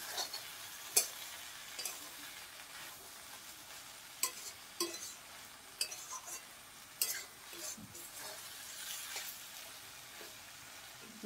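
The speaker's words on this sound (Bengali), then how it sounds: "সেই নরম কাঁকুরকে চচ্চড়ি করছি চিংড়ি মাছ দিয়ে, কাঁচা ছোলা দিয়ে" Shrimp and cucumber chorchori with raw chickpeas is stirred and fried in a pan, a steady soft sizzle broken by sharp ticks and scrapes of the spatula against the metal.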